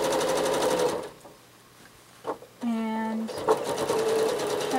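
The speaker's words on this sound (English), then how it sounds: "I'm going to do some travel stitching here along this one." Regular domestic sewing machine travel stitching along a paisley quilt, a steady close whirring hum that drops out briefly for a short stop and a low tone, then resumes running.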